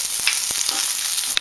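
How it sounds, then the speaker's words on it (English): Cumin and fennel seeds sizzle in hot oil in a pan, with a steady high crackle and a few sharp scrapes and clinks of stirring. "Mix it up, fry it a little bit."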